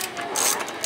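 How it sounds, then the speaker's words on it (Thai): A ratcheting wrench loosening a bolt on a Honda CB300F motorcycle, giving a close, loud, continuous clicking and whirring burst. "ถอดน็อตตรงนี้นะครับ1ตัว2ตัวนะครับดึงออกเก็บไว้ก่อน"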